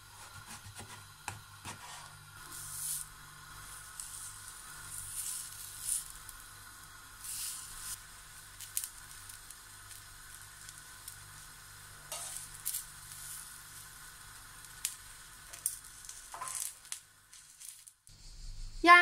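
Sliced purple eggplant grilling in a pan over a gas flame, a soft intermittent sizzle with occasional scraping and clicks, faint and quiet with no talk.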